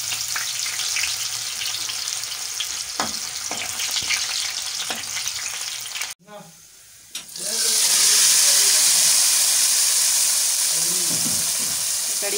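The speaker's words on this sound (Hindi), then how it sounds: "जिस तेल में हमने पकोड़े फ्राई किए थे इसी में हम प्याज डाल देंगे, और साथ ही साबुत लाल मिर्ची।" Onion and whole red chillies dropped into oil already used for frying pakoras for a kadhi tadka, a steady sizzle with crackles, a brief near-silence, then a loud, full hissing fry that continues, with some talk early on.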